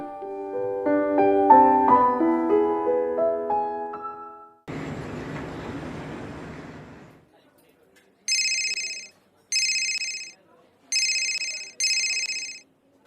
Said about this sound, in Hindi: तुम्हारे नंबर पे मिस कॉल कर देता हूँ